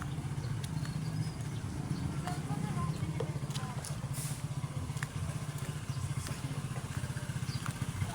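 Motorcycle engine running steadily during a test drive after a fresh oil change, a continuous low rumbling pulse close by, with people talking over it.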